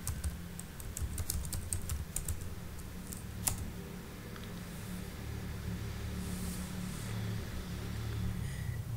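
Someone types on a computer keyboard in a flurry of close clicks at the start, then occasional scattered keystrokes over a low steady background rumble.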